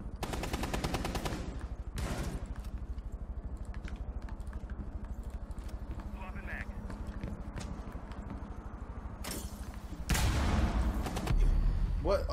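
Rapid bursts of gunfire from the tactical shooter Rainbow Six Siege ring out in a steady stream, with heavier loud volleys near the start and end, while players talk over the action.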